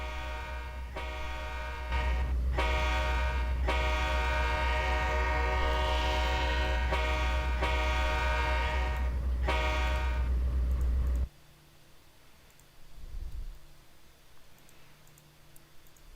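A Norfolk Southern C39-8 locomotive in the Trainz simulator gives a loud, sustained chord horn blast of about eleven seconds, with a few short breaks, over a low engine rumble. After the horn stops, the engine idles quietly.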